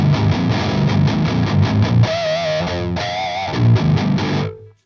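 Distorted electric guitar through an Airis Savage Drive pedal into a Victory Kraken amp, loud chugging palm-muted riffs with sustained, wavering bent notes in the middle, ending abruptly on a choked chord.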